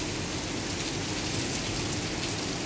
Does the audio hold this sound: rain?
yes